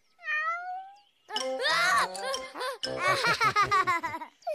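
A cat gives a short meow at the start. Animated-story dialogue in Malay follows, with a dubbed voice.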